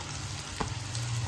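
Ginger, garlic and whole green chillies sizzle in butter for chicken butter masala. The hissing fry is steady and close, with one brief clatter partway through and no talking.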